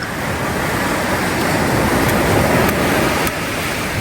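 Sea waves washing in at Dadar Chowpatty beach in Mumbai, a loud, continuous broadband roar of surf with wind buffeting the microphone, no voices over it.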